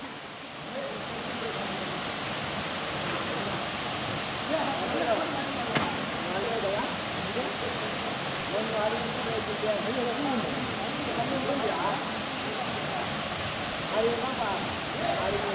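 Continuous rushing roar of Talakona Waterfalls in Andhra Pradesh, steady and enveloping, with faint voices mixed in underneath.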